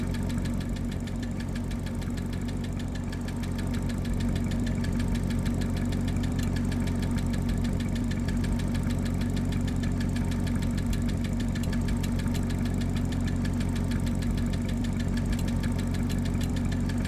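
A sleeper car's engine idles steadily without revving, a continuous low rumble with a rough, knocking pulse that holds at an even, loud level throughout, with no voices over it.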